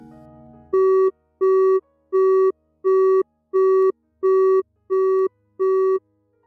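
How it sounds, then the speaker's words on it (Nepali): A telephone busy or disconnect tone beeps eight times in an even, steady rhythm, loud and clear with nothing else behind it. "फोन आफै डिस्कनेक्ट भयो"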